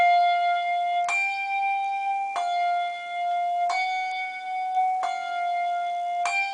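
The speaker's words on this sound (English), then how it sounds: "Note, I'm still ringing and damping at the same time." Handbells rung in a weaving pattern with table damping: five evenly spaced bright strikes, each ringing tone cut short as the next bell sounds, clear and close with no talking.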